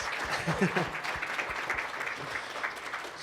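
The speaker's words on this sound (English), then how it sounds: "let's give one more round of applause to Eliza Lynn Peters." Applause from an audience at a youth engagement event, a steady wash of many hands clapping for about three seconds, with a few voices faintly audible underneath.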